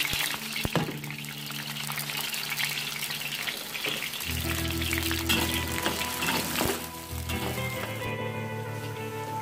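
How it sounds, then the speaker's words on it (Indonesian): Shallots sizzle and crackle in hot oil in a pan while sambal is being made, a steady close frying hiss that swells and deepens partway through, with no talking. "Kita goreng dulu ya bawangnya."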